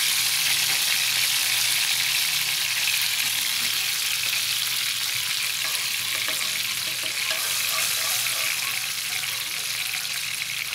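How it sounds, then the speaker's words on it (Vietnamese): Fish sauce and sugar sizzle and bubble as they simmer and reduce in a pan, making a steady, dense hiss of frying with light stirring that continues evenly throughout. "Để mình thắng cái phần nước này nè cho nó sánh á"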